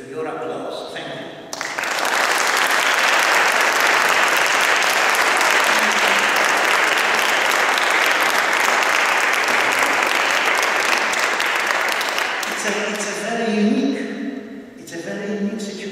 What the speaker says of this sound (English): all those who are here with your applause